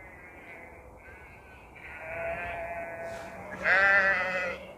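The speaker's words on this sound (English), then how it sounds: "That's sheep." Sheep bleating on a riverbank, several calls overlapping and rising to a louder, nearer bleat near the end, with steady outdoor ambience underneath and no talk.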